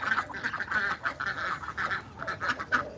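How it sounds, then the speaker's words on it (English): Several ducks quack in a noisy, insistent chorus of repeated nasal calls while waiting to be fed outdoors, fairly close and continuous with no talk over them. "I think I'm being insulted in duck language."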